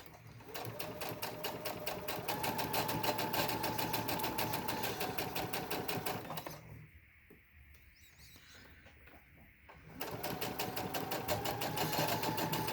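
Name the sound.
sewing machine stitching a fabric face mask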